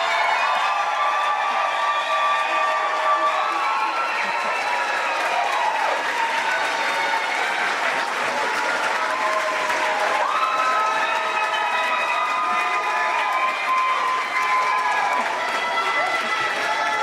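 A crowd applauds nursing graduates at a pinning ceremony: sustained, loud clapping mixed with cheering and overlapping voices that fills the hall throughout.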